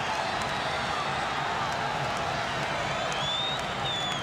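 Wrestling arena crowd during a WWF Billy Jack Haynes match, a steady broad roar of cheering and shouting that fills the whole stretch with no pauses and no distinct voice.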